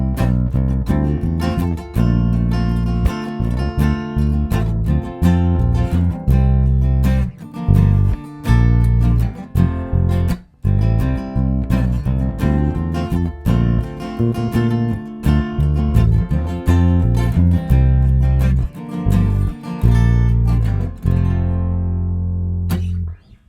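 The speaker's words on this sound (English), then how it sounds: "we need an acoustic guitar to go along with it" A bass guitar line plays alongside strummed acoustic guitar chords, a steady rhythmic groove up close that fades out at the end.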